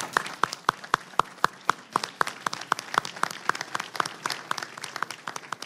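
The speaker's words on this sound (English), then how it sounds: "I would like to have a round of applause for people that have done so much for the authority and stuff." Sparse clapping from a small audience at a board of directors meeting: a few individual claps in a brisk, fairly even rhythm, moderately quiet in a roomy space.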